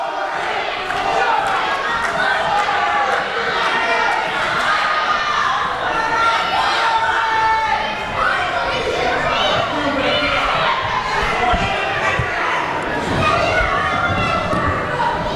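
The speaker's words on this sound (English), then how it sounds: "This crowd getting behind Gory here." Crowd at a wrestling event cheers and shouts in support of a wrestler, a busy, continuous roar of voices with scattered yells, steady and fairly loud throughout.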